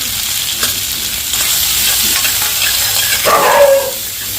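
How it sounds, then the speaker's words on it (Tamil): Chopped tomatoes with turmeric powder fry loudly in a pan, a close crackling sizzle with scraping strokes of a spoon stirring through, rising in the final seconds. "தக்காளி போட்டு கொஞ்சமாக ஃப்ரை பண்ணிவிட்டு இது கூடவே கொஞ்சமாக மஞ்சள்தூள் போட்டுப்போம்"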